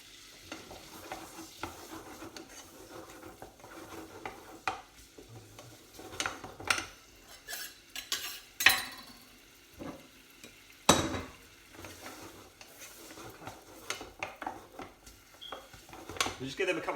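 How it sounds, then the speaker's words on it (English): Onions and garlic go into a pan with butter and flour for mushroom soup, giving a soft sizzle with stirring and utensil clinks against the pan, some louder scrapes and knocks, and speech in the background. "Let's get the onions and the garlic straight in."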